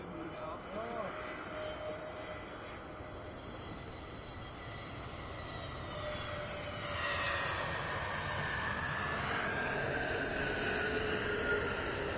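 A British Airways airplane at Brussels Airport produces a wide, rumbling engine roar with faint whining tones, building noticeably louder and nearer in the second half.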